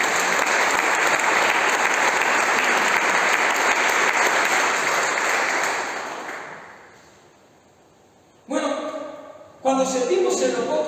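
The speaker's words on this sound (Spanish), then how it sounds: "Regálale un aplauso a este vivo." A church congregation breaks into loud sustained applause that gradually dies away, followed by a voice speaking Spanish over the room.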